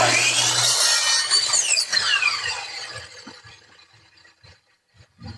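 A power saw cuts through wood for a small DIY high table, a bright, loud screeching rasp for about two seconds that fades out, followed by scattered light knocks and handling sounds.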